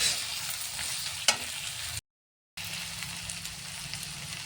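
Spice paste fries in a pan for a puti fish curry, giving a steady hiss and crackle of sizzling with one sharp spatter. The sound cuts out briefly midway before resuming.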